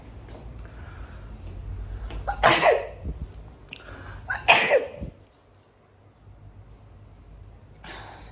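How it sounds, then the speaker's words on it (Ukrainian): Two sharp sneezes burst out a couple of seconds apart from someone at a tattoo studio, loud and close over a quiet room hum, with a faint breath afterward. "Я зараз чихну."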